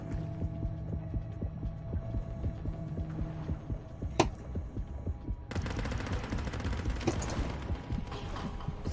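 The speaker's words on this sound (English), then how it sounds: "It's so weird hearing the gunshots from a greater distance." A couple of faint, distant gunshots crack sparsely through the low droning hum of the video game Depth, with no voices.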